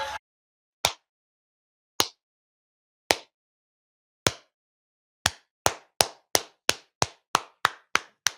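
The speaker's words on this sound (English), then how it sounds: "That is a slow clap for your Houston Rockets" A single pair of hands claps slowly and deliberately, the crisp sharp claps spaced about a second apart and then quickening into a steady faster beat, close and dry with nothing else around, in a celebratory salute to the Houston Rockets.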